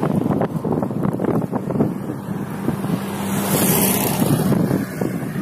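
Strong wind buffeting the microphone with a constant roar and gusty rumble throughout, outdoors on a drizzly day during a 100 km outing with a dog around Sumgait, with no speech.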